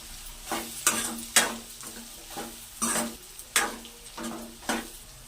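Snake gourd curry with crushed raw garlic being stirred in a pan: a rhythmic series of about ten scraping strokes over a faint sizzle, close and moderately loud.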